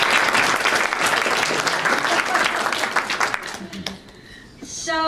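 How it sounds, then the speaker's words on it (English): A conference audience at a rural broadband telecom panel gives a round of applause, loud and dense at first, then thinning out and fading as a voice begins near the end. "let's give her another round of applause"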